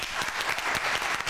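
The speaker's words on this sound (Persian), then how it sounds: "یه تشویق کنی" A studio audience at a pantomime game show breaks into a short burst of dense clapping, loud and continuous for about a second without voices.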